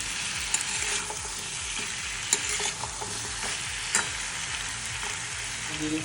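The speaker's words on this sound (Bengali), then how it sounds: "ভাজা ওল আর আলুটাকে কষে নিচ্ছি" Fried yam and potato sauté with spices in a pan, a steady close sizzle with scraping stirs and a few sharp utensil knocks throughout.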